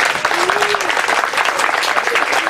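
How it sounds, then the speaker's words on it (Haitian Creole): Audience applause at a public ceremony in Gonaïves, a dense, loud burst of clapping sustained throughout, with voices faintly mixed in. "Je demande un gros applaudissement pour Madame Willa Petité Bitus"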